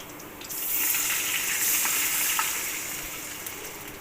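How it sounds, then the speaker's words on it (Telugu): Water splashes steadily into a pan to start a sugar syrup for dhokla, a soft gushing pour that swells after a brief quiet start and then tapers off. "ఇందులో కొంచెం వాటర్ వేసుకోవాలి."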